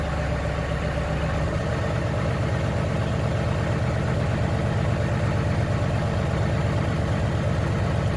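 A truck engine idling at about 1,000 RPM, a loud, steady low rumble with a regular pulsing beat, close up and unchanging, with no voices.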